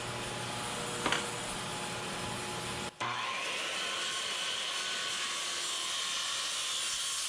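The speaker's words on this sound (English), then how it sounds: "Got the bandsaw set up." A bandsaw runs steadily while cutting an upright part from an M998A1 HMMWV restoration, a continuous whirring drone that briefly cuts out near the middle before resuming at an even, close level.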